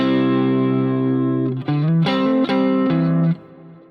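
Overdriven electric guitar plays a short rhythm fill: a sustained chord rings, then quick hammered-on notes step through a rapid phrase before cutting off, loud and close with no talking.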